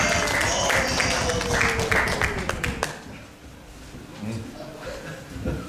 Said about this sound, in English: Can you give him a rousing applause?